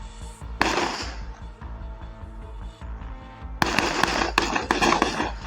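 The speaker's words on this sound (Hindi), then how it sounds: "करीब 5 मिनट तक मोकामा में गन शॉट का साउंड सुनाई दिया।" Rapid volleys of sharp gunshots, loud and echoing, in a village in Mokama, Bihar, with dense bursts at the start and again near the end, sustained firing of dozens of rounds.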